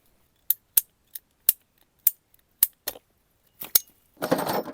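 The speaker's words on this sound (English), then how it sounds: "I got this tool, which is designed to cut these pipes." A pipe cutter snipping plastic water pipes on a farm, sharp isolated clicks and snaps repeated about ten times at uneven intervals, close and crisp, followed by a brief rough scraping rustle.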